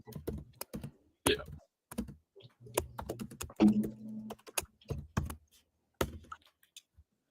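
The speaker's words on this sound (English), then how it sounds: "So when I type, it's coming through the thing now." Keyboard typing, a run of sharp clicky keystrokes at uneven pace, picked up by a nearby microphone during a live NFL Monday Night Football betting broadcast, with brief bits of speech mixed in.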